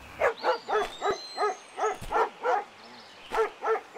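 Dogs bark in the video game Into the Dead 2, a rapid series of about a dozen close, evenly spaced barks with a faint tonal background and no talk.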